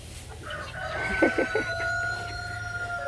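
Chickens cluck in a messy indoor pen over a steady low background hum, with a few short, sharper calls standing out near the middle.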